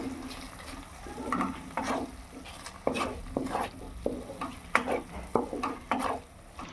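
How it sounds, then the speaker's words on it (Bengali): A spoon scrapes and stirs fried raisins and khoya kheer in a pan for a prawn dish. The metal taps and scrapes come in irregular bursts over a soft sizzle, close and fairly quiet, with no talk. "কিশমিশ আর খোয়া ক্ষীর দিয়ে আমি একটু নেড়ে নিয়েছি"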